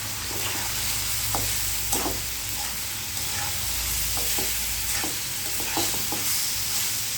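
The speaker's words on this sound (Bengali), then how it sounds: "ভালো করে নাড়াচাড়া করে দিতে হবে।" Vegetables frying in a pan keep up a steady sizzle while a utensil stirs them, scraping and tapping against the pan at irregular intervals, close and moderately loud, with no talking.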